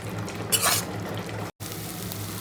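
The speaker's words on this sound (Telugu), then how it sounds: "ఇప్పుడు దీంట్లో ఒక స్పూన్ అల్లం పేస్ట్ వేసుకున్న అల్లం పేస్ట్ని ఇలా మొత్తం కలిపేసి మళ్ళీ ఒక 2 నిమిషాలు మీడియం ఫ్లేమ్లో" Ginger paste fries in oil over a medium flame, a soft continuous sizzle broken by a brief scraping stir, quiet and close, with no voices.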